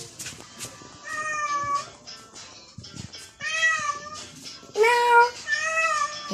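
A cat meows several times in close succession, clear rising and falling calls separated by short gaps, fairly close and alone over a quiet indoor background.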